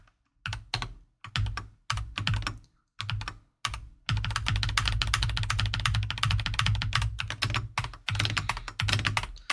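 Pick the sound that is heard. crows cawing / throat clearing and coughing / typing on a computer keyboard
typing on a computer keyboard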